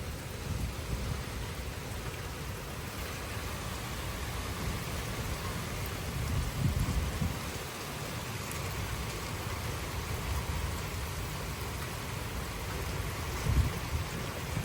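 Heavy rain from a severe thunderstorm with 40 mph wind gusts falls in Frisco, Texas, a dense, steady hiss that swells briefly a couple of times, with no distinct thunderclap standing out.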